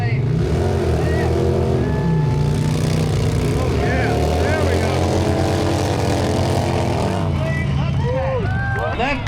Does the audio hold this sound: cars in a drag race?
yes